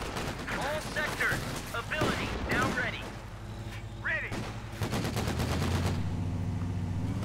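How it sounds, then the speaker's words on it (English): Flak emplacement firing in Company of Heroes 2, rapid bursts of anti-aircraft gunfire layered with other battle shots and thuds, loud and dense throughout, with a commentator's voice talking over the action. "Flak emplacement opening up the anti-Amerikaner."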